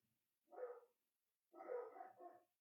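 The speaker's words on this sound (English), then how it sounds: "I'm sorry about the dogs barking." Dogs barking indoors, one bark followed after a pause by a run of two or three quick barks, moderately close, with no talk.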